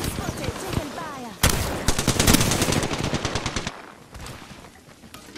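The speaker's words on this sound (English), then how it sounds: "I'm spotted, taking fire." Rapid automatic gunfire from a shooter video game, loud bursts of fast repeated shots with a sharp heavy burst in the middle, then fading to scattered shots, with a voice speaking briefly over parts of it.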